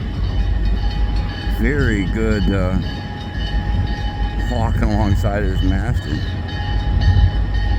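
A train runs along a railway with a constant rumble, sounding two loud harmonic horn blasts, one early and one midway. Someone talks over it.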